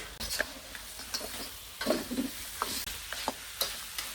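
Crabs going into a pan of hot spice mix, with steady frying sizzle and scattered clicks and scrapes of stirring, close and moderately loud with no talking.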